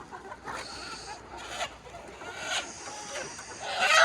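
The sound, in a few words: roosters clucking and crowing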